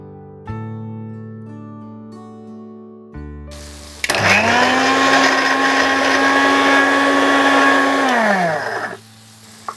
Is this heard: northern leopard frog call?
no